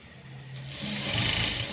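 A sewing machine stitching the lining of a blouse front, running as a steady mechanical whir with a low motor hum that shifts in pitch partway through, close and moderately loud, with no voices.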